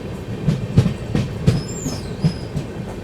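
Poorvottar Sampark Kranti express train rolling through the Mansi Junction loop line, steady rumble with several rhythmic wheel clunks over rail joints and a faint high squeal, no voices.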